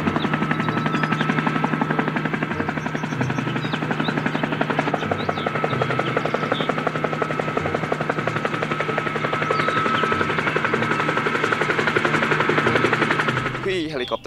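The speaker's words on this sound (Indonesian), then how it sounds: "Helikopter punya baling-baling yang bisa berputar." A toy helicopter's rotor chops steadily and rapidly with a constant whirring drone that holds at one level before cutting off at the end.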